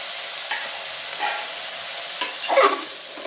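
Ridge gourd and tomatoes cook in a pan with a soft, low sizzle, broken by a few brief scraping stirs, the last one a little louder near the end.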